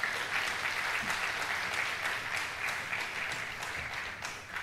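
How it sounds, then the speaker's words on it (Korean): A church congregation applauds steadily during a Friday night service, a dense patter of many hands clapping throughout, fading slightly at the end. "큰 박수로 위로해 주시기 바랍니다."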